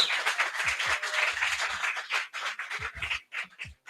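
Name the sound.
audience applause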